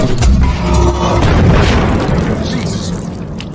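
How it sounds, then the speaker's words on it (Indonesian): A deep, booming blast rolls out and slowly decays into a heavy rumble, loud and close, with no talking. "Bill pun tewas terkena tembakan meriam yang berada di markasnya sendiri"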